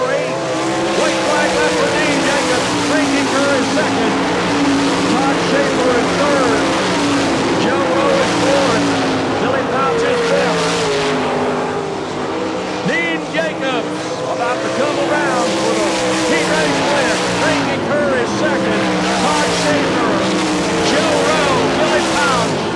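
Race cars roar around a dirt speedway in a continuous loud, dense engine howl, pitch rising and falling as the pack passes, while an announcer talks over the noise.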